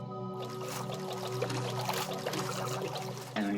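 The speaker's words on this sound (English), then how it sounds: "You hear the swimming sound." Underwater swimming in Minecraft near an ocean-floor wreck, a soft, continuous watery sloshing and burbling that stays steady and moderately loud, with a faint tonal hum beneath it and no talk.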